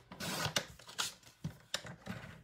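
Thick Whisper White card stock is cut for a card base with several quick, close scissor snips and rustling strokes, each a short crisp burst, fairly quiet and with no talking.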